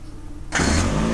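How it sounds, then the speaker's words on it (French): A car engine turns over and catches in the game The Last Stand Aftermath, a sudden loud burst of engine roar after a quiet moment. "on démarre la bagnole et on se casse"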